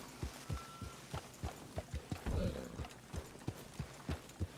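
Horse hooves clip-clop in a steady walking rhythm, each strike sharp and fairly close, with faint background noise between the steps.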